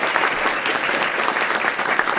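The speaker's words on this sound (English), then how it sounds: "give her a huge round of applause" Audience applause at a tech conference keynote, a dense, steady wash of many hands clapping from a large crowd that holds at an even level throughout.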